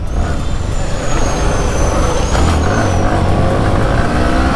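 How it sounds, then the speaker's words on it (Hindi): Heavy road traffic heard from a motorcycle in India, a loud continuous roar of engines and tyres with a horn-like whine and passing vehicles, close and dense throughout. "ट्रैफिक बहुत ज्यादा है"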